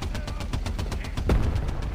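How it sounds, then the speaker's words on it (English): A tank's machine gun fires in War Thunder Mobile from a T29 premium heavy tank: a steady rapid stream of loud close shots with a heavier thump partway through, no voices. "Let's use the machine gun."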